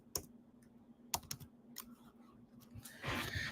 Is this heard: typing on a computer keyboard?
yes